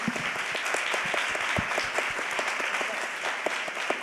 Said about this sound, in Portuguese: Eu acho que podia aplaudir, exatamente.